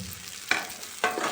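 Mustard seeds, cumin and a sprig of curry leaves fry in oil for a tamarind roti pachadi, a brief close sizzle with two sharp spatula scrapes.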